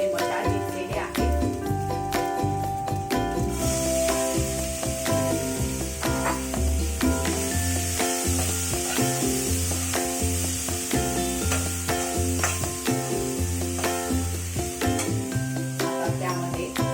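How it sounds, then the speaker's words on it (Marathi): Ginger garlic paste sizzling while sautéing in hot oil, a steady crackling fry with rhythmic scraping and stirring clatter throughout, over background music. "1 चमचा आलं लसूण पेस्ट 2 मिनिटं तेलामध्ये परतून घेऊया"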